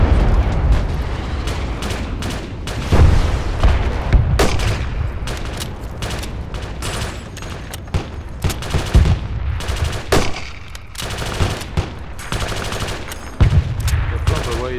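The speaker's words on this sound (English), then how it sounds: "Yeah, under fire here!" Heavy gunfire in the Project Reality military shooter, with German forces engaged by PLA troops: sharp single shots and machine-gun bursts, some very close and loud, others distant, with radio chatter in between.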